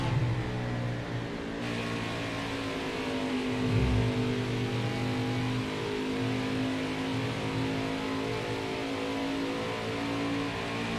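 A NASCAR racing truck engine drones at Pocono in Nascar Heat 5, a steady, loud in-game engine hum with layered harmonic tones that holds throughout, with one brief surge near the middle.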